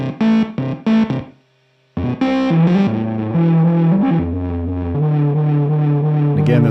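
A Universal Audio Enigmatic amp sim pedal on the D65 cab setting shapes a synth into a distorted, sustained tone, with short stabs, a brief gap and then held notes.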